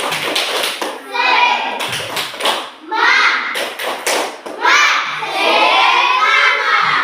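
Children in an Indonesian classroom clap their hands together in patterned bursts before a lesson, sharp thuds and taps mixed with a teacher's voice and the children chanting and shouting along.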